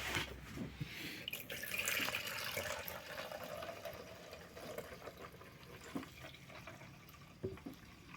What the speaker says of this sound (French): un peu d'eau jusqu'à la fameuse marque